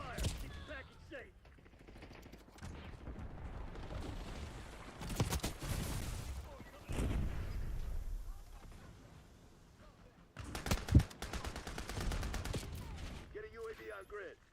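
Gunfire in a Roblox shooter game, with bursts of rapid automatic fire and shots interspersed with quieter stretches, heard alongside game voice chatter.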